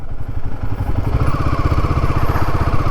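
A Royal Enfield Himalayan 450 motorcycle on a solo ride, its engine running with a loud, close, steady low throb and rapid rhythmic pulsing.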